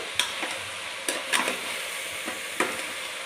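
A spatula knocks and scrapes against a pan several times at an uneven pace while pumpkin sizzles gently underneath, close up and without speech.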